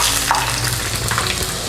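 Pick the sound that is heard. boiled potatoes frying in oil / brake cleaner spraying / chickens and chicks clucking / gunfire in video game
boiled potatoes frying in oil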